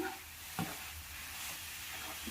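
Coconut and jaggery being stirred in a pan over a low flame for traditional coconut laddu, a soft steady scrape and sizzle with one brief louder stroke, close by and without speech.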